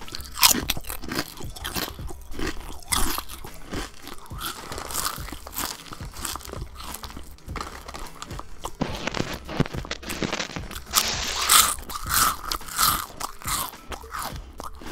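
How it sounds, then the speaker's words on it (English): Chips crunch loudly and steadily over a Call of Duty: Modern Warfare game voice chat, with close biting, chewing and bag crinkling throughout, dense and noisy with no talk. "I can hear every crunch."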